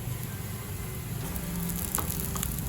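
Rice fries in a pan over medium to high flame for milk pulao, giving a steady, dense crackling sizzle, close and even throughout, with a few brief sharper pops.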